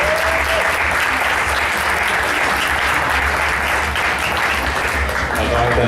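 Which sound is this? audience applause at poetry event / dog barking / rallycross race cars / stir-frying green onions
audience applause at poetry event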